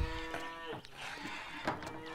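Cows moo in the Lumberjack's Dynasty video game on Xbox Series X, with several long, low, harmonic bellows overlapping at close range inside a barn and carrying on steadily with no talk.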